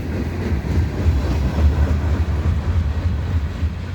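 A Norfolk Southern freight train with covered hoppers rolls past close by, its tail end passing in a loud continuous rumble with faint wheel clatter and no voices.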